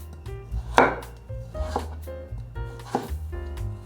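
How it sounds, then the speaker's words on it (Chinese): A knife chops peeled carrots into slices on a board, with crisp, uneven thuds and crunches close by, a few strokes per second with short pauses between them. "把红萝卜削皮，把红萝卜切片"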